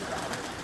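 A pigeon settles after landing and gives a soft, brief coo, faint against a steady outdoor background.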